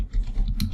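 Quick keystrokes on a computer keyboard while filling in a Google Form with student details, a short burst of light clicking taps up close.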